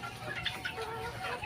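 Chickens clucking faintly in a farm shed, short soft clucks scattered over background noise.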